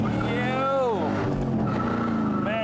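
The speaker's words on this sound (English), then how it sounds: "The exhaust sounds phenomenal." Exhaust roar from a modern muscle car fitted with a Hurst performance package, revving up and down as it drives; loud and close, with a voice talking over it.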